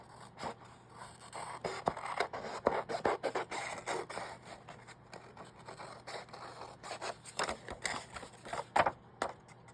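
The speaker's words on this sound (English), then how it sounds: "I have to cut that now" Scissors cut through paper and mixed-media craft tag material in a quick run of close, crisp snips and scrapes with no talking.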